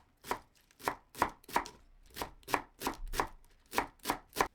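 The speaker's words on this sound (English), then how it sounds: "Mince 7 ounces of chives." Knife mincing chives on a cutting board: about ten crisp, evenly spaced chops, close and clear, with no voices.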